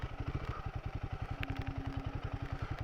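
A Royal Enfield Himalayan 450 motorcycle's single-cylinder engine putters steadily at low revs as it turns around in a tight spot on a trail, a close, even thumping rhythm throughout.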